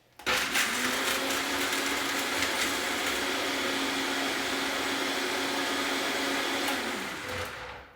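A blender whirs steadily at close range as it purées cashew nuts with liquid into a smooth cashew cream, holding one even motor pitch for several seconds before spinning down at the end.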